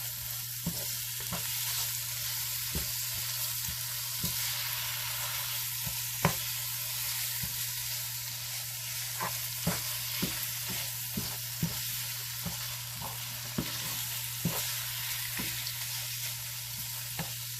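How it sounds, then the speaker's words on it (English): Chopped beef for chili being stirred and mixed in a pan, with steady frying sizzle and regular scraping clicks of a utensil, close and alone with no talk. "Just really trying to mix that chopped meat first together"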